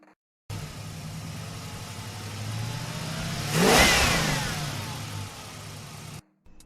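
A Mazda CX-5's 2-litre Skyactiv-G inline-four revs from a steady idle, climbing to one loud peak and then settling back down, heard alone and fairly close.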